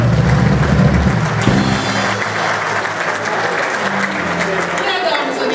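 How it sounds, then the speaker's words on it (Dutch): A New Year's concert audience gives loud, sustained applause that fills the hall, with a voice speaking over the clapping near the start. "Ontvangt u maar met een daverend applaus."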